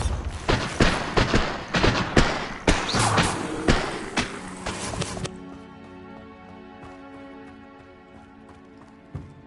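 Bombarda spell explosions in Hogwarts Legacy hit as a rapid run of loud, punchy booms and thuds over the first half, then give way to quiet sustained musical tones.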